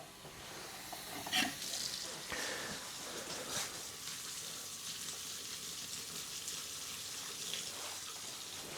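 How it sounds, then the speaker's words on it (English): Water running into a pitcher and then poured out, a steady soft splashing stream with a couple of louder gurgles early on, close and moderately quiet. "Go ahead and fill this up about halfway and pour the rest of it in that."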